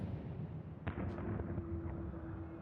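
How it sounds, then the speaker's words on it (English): Cannon fire in Final Fantasy XIV, a single faint distant boom followed by a rumbling tail under a low continuous game background. "Cannons."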